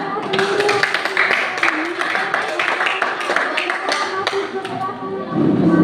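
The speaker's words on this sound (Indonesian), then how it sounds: "Tepuk tangan." Classmates in a school lesson clap their hands together, a busy mix of claps that runs steadily throughout, with voices talking over it.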